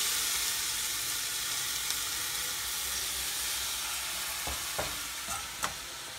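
Ground brinjal chutney goes into a pan of sizzling sautéed onions and gets stirred, a steady frying hiss with a few light scraping knocks of the spoon near the end.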